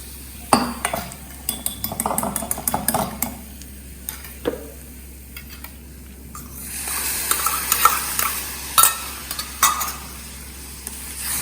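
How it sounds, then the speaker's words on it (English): Yogurt (dahi) for potato raita being mixed in a bowl, with quick, irregular scraping and clinking of a spoon against the dish, close and fairly loud, shifting to a softer, smoother swishing stir. "take your dahi and mix it"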